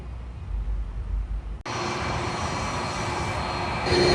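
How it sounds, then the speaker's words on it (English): A Dassault private jet approaches to land at San Juan airport in Puerto Rico. A low rumble gives way abruptly to a loud, steady broadband jet roar that grows slightly stronger near the end. "Have the private jet, the Dassault, on final approach."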